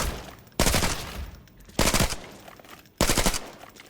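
Three loud, close bursts of rapid AK-12 rifle fire in the video game Arena Breakout Infinite, each a sharp onset followed by a fading rattle, evenly spaced with short gaps between them.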